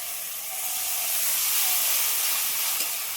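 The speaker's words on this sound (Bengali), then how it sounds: "এইবার যে মশলাটা বানিয়ে রেখেছি এই মশলাটা দিয়ে দেবো। অল্প করে একটু জল দিয়ে দেবো" Spice paste and a little water go into hot oil and set off a loud, rushing hiss of sizzle and steam that swells and stays steady, with no voices.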